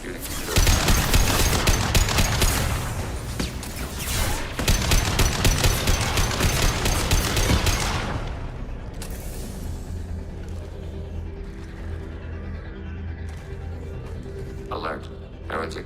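A hacked turret in Mass Effect 2 fires rapid, sustained automatic bursts, loud and dense for several seconds before fading into mechanical rumble, with a synthetic voice speaking over it.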